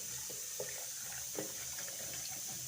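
Water pours steadily into a container of carrots being readied for juice, a soft continuous trickle and splash with faint clinks, close and quiet, with no voices.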